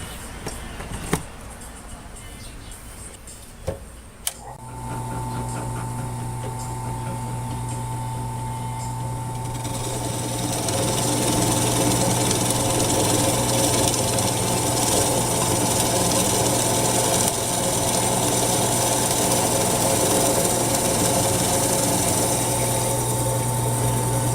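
An old drill press starting up, a couple of clicks giving way to a steady motor hum at about four seconds that grows louder and fuller near ten seconds, then runs on continuously, close by with no talking.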